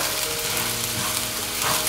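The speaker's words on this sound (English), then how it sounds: "cook the rice with the veggies for some time till the rice coats with the olive oil and butter" Rice and vegetables frying in olive oil and butter for mushroom risotto, a close, continuous bright sizzle with faint stirring movement and no voices.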